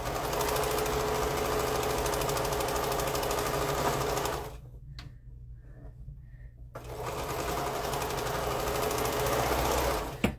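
Sewing machine stitching quilt fabric, a loud, steady mechanical whir that runs continuously, stops for about two seconds, then resumes at the same speed.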